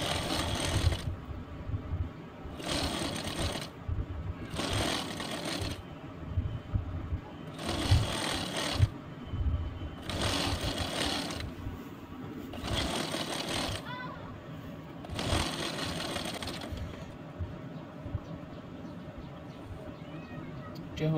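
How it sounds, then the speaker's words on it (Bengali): Sewing machine stitching a shirt's front button placket, running in short repeated bursts with pauses, a quick mechanical chatter close by, with talk between the runs. "এখন আমি সামনের এই যে বোতামের প্লেটটা সেলাই করে নেব।"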